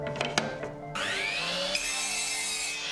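A miter saw cuts through HMR board at a 22.5-degree angle: a few light knocks, then the blade whines up and bites into the board with a loud, steady, rising cutting roar.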